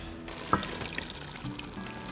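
Beef broth pours into a pot of short rib ragu with crushed tomatoes and red wine, a steady liquid splash and trickle beginning with a brief clink, close and alone for about two seconds.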